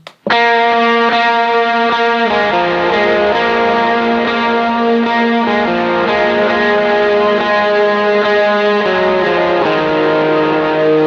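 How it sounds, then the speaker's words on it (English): Overdriven electric guitar with added gain plays a steady sequence of sustained chords, loud and continuous, with no talking. "The second pre, I add some more gain."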